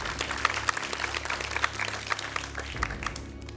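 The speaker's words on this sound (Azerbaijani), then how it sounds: "Turqut Babalını biz alqışlayırıq ürəkdən." Studio audience at a quiz show applauds a contestant, a moderate spread of individual claps with sharper hand strikes poking through, steady and fairly close.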